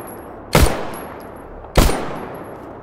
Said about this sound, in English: so let's shoot the zombies